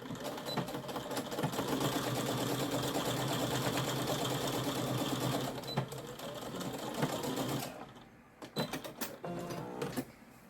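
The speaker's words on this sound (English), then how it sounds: "we are going to stitch from one end to the other here on the bottom" A sewing machine stitches a seam along the bottom of a quilted bag, running in a steady close mechanical whir for several seconds before slowing, stopping, and giving a few short clicks and bursts.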